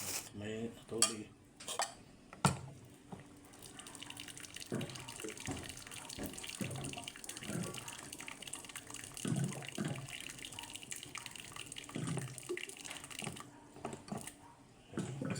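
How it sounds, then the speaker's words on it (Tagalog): Tap water running into a container while instant oatmeal is prepared for a diet dinner meal, a steady close splashing stream with a few clinks of dishes and cutlery over the top. "Lagyan natin tubig."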